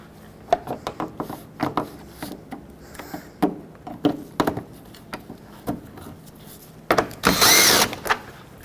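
A power drill whirs in short, sharp bursts while taking out 10mm bolts and push clips from the front bumper cover of a 2007-2010 Chrysler Sebring, with clicks and handling noises between bursts and one longer spin near the end.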